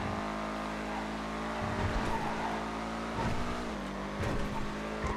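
A Schlagen GT race car in GTA FiveM drives a GT2 round on the Granite track in the rain, its engine revving up and down through gear shifts, with a steady close-up drone and brief tire noise.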